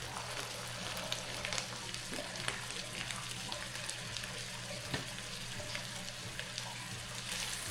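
Chopped celery sautes in a pan on low heat for homemade stuffing, giving a steady, soft sizzle with scattered small pops and crackles, with no talking.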